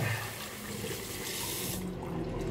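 Cold tap water running steadily from a faucet into a sink, a continuous close rushing splash that drops away near the end.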